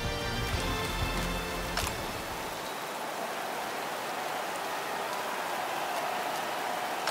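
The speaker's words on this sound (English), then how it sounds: "it has been raining for a few hours now and it doesn't look like it will stop anytime soon" Steady rain in the MotoGP 24 racing game on PS5, falling on a wet track during a race: a continuous, even hiss of rainfall with an engine-like rumble fading early, heard alone without talk.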